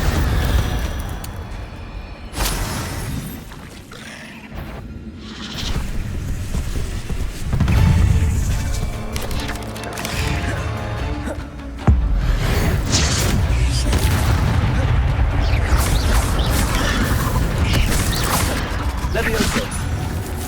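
Spell-casting effects from the video game Hogwarts Legacy, a loud, dense stream of magical whooshes, bursts and booms layered over game music and ambience, with a sharp surge midway, while a voice calls out spell names.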